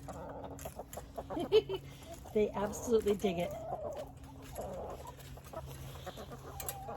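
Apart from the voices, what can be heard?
chickens clucking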